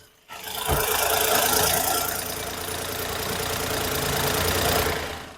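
Petrol engine of a Maruti Alto K10 VXi hatchback starts up and runs steadily at idle close by, a constant even drone with a slight knocking texture and no speech.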